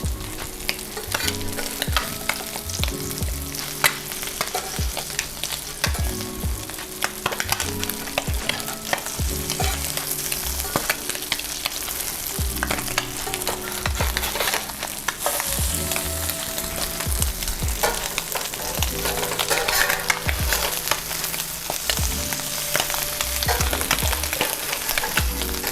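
Crab cakes fry in a pan, a dense, steady sizzle close by with scraping stirs and spatula knocks throughout, no talking.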